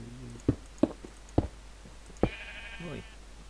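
A Minecraft sheep lets out a harmonic bleat after several sharp knocks or thumps, set against low game-world background sound with no speech.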